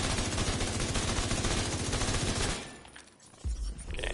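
A full magazine emptied from a gun in The Division 2 video game rattles out as rapid, dense automatic fire for about two and a half seconds. It then stops, leaving softer game sounds and a brief thump.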